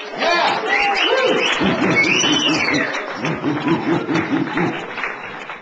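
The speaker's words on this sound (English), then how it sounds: "You give me a round of applause." A dance-show audience gives a loud round of applause with whistles and screams. The clapping is dense and close, with shouting voices over it, then thins toward the end as people keep calling out.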